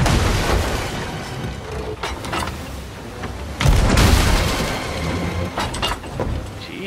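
Cannonball fire in the video game Knight Tales, a series of heavy booms with one loud blast midway over rumbling game ambience.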